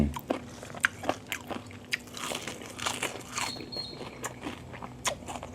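Crunchy jellyfish dipped in suki sauce is bitten and chewed close to the mic, giving repeated wet, crisp crunches in an uneven rhythm for several seconds.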